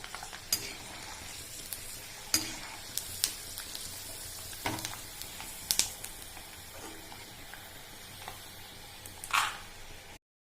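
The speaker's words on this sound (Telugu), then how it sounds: "పెట్టుకొని ఆయిల్ వేసి ఇది వేడయ్యాక ఫస్ట్ పల్లీలు వేసి వేసుకుందాం." Peanuts frying in hot oil in a pan, a steady crackling sizzle with occasional sharp stirring clicks and scrapes, close and moderately loud, no voices.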